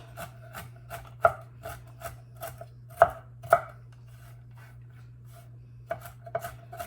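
A knife chops walnuts on a board in a run of crisp, irregular knocks, a few hits louder than the rest, over a low steady hum with a short pause near the end.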